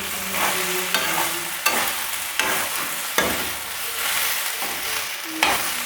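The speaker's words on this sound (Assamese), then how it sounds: "এতিয়া এইখিনি ভালদৰে লৰাব লাগিব দেই, এনেকৈ ভালকৈ লৰাব লাগিব।" Sticky rice snack being stirred in a pan, a spoon scraping and turning the grains in steady repeated strokes over a soft sizzle, with no voices present.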